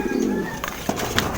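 Racing pigeons from a Filipino loft give soft, low cooing calls up close, steady over a faint background, with a couple of short brighter chirps or flutters near the end.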